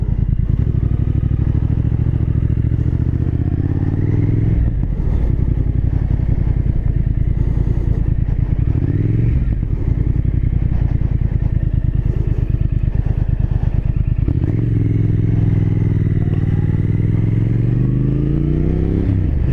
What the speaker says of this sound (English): Man, this bike wants to go.